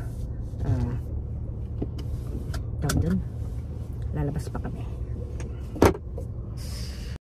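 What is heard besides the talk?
car idling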